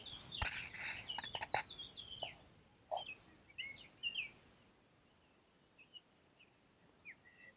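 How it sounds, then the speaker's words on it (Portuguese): Small birds chirping in short, scattered bursts in a quiet, peaceful spot in the town of Atri, Italy, with louder calls early on, then sparse faint tweets. "vocês estão ouvindo os barulhos dos pássaros?"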